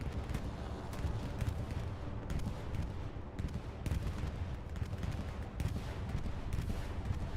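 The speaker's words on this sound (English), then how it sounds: "they're setting up this bombing run that's about to happen" A bombing run in a WWII video game on Utah Beach brings dense, continuous rumbling explosions and rattling gunfire, loud and unbroken throughout with sharp blasts layered over a heavy low roar.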